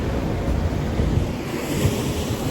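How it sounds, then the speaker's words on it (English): Ocean surf rolling onto a shore at a surfing beach, heard as a steady, close roar of breaking water mixed with gusty wind noise on the microphone, with no voices. "Those look like pretty good waves."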